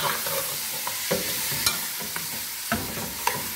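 Chicken sears in a hot pot with a steady crackling sizzle, broken by several scrapes and knocks of a stirring spoon spread at uneven intervals.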